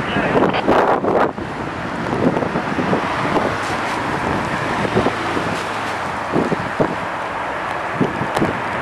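Strong gusty wind from the back end of Hurricane Gonzalo at Manchester Airport, a steady loud rush buffeting the microphone, with rougher thumping gusts early on and scattered bumps.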